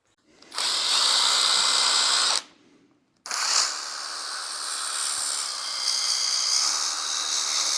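A power tool buffs weld discoloration off a stainless steel exhaust pipe, a loud, steady high-pitched whir and hiss that stops briefly for about a second, then resumes and continues, with no talking.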